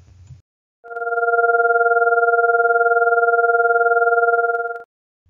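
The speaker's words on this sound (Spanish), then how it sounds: "Le dicen la quinta lobo porque a los músicos del siglo XV les parecía que aullaba." A wolf fifth, an out-of-tune fifth a Pythagorean comma short, is held as a steady synthetic two-note chord for about four seconds with a fast, regular beating wobble. It sounds alone after a brief sound at the start.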